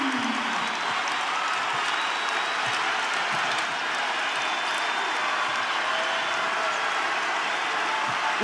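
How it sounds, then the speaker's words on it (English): Arena crowd at an Iowa home women's basketball game against Michigan State, a sustained roaring cheer and applause filling the space, loud and continuous without letup. "Listen to this crowd."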